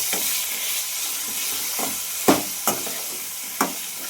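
Green tomatoes and chilies stir-fry in a pan over a low flame for a sambharo relish. A steady, close sizzle runs throughout, broken by a few sharp scrapes and knocks of a spoon stirring.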